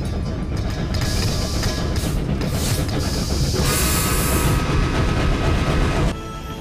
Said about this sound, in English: Do you know what kind of train this is?